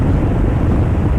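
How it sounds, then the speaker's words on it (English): A gust of cold wind roars steadily and loudly across the microphone during a motorcycle ride, with a dense, low rumble that lasts throughout and has no speech over it. "Ooh, that gust of that cold wind."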